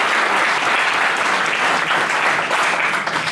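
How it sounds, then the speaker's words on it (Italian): Dense, steady audience applause at an Italian political rally, after a call to clap for a mayoral candidate, filling the space evenly and loudly with no talk over it. "un applauso a Emiliano."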